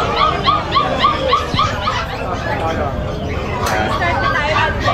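Several dogs at a kennel, among them Beagles and Pomeranians, yip, bark and whimper in a busy chorus close by, with a person talking over the noise.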